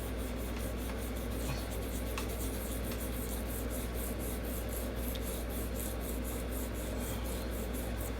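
Hand sandpaper rubbing over the finish of a Les Paul guitar body: a steady, close, soft scratchy rasp that continues without pause.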